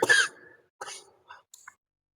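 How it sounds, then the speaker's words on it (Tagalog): A person coughs several times indoors during an evening devotion, one harsh close cough followed by a few shorter, quieter coughs and breaths with pauses between. "Grabe yung ubo."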